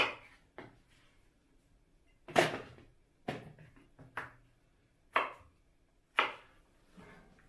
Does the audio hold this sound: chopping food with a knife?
yes